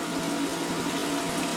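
Water spills steadily from an upper reef aquarium into a lower one and down into a pair of bubble-removing sump buckets, a continuous close splashing rush with no voices.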